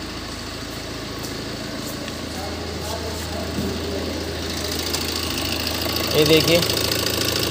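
A Tata Super Ace light truck with a low-pickup fault and a cylinder two injector open-circuit error runs steadily and rises slightly near the end, heard close with someone speaking briefly over it.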